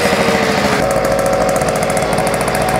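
A small moped engine on a custom bobber-style moped idles close by with a fast, rattling, steady putter and no talk over it.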